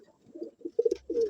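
Racing pigeons coo and scuffle up close, with low throaty coos building into a louder burst of overlapping calls and flutters near the end.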